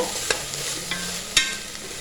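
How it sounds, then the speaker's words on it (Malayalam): Beef cooking down in a pan for Kerala beef pickle, its liquid reducing, gives a soft steady sizzle with a few sharp scrapes of stirring, close by and without speech. "ഇനി ഇതിൻ്റെ വെള്ളം ഒന്ന് നന്നായിട്ട് വറ്റിച്ചെടുക്കണം"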